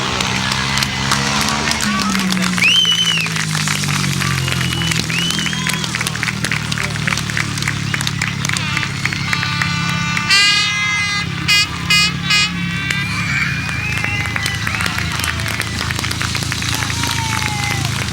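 A crowd claps and cheers for the winner of a sidecar grasstrack race at the 2001 International Bonfire Burnup. The applause stays steady under a blaring horn and engine noise, and a commentator talks throughout.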